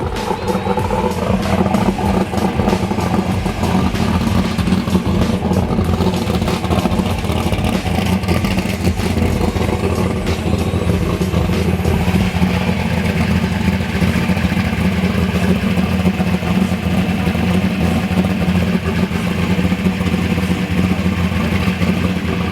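A 2,500-horsepower drag street car engine rumbles and revs loudly and continuously, with deep throaty growl and rattling clatter, close by and without talk.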